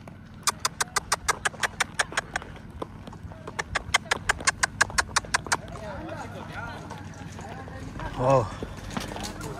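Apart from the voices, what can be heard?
horse hooves clip-clopping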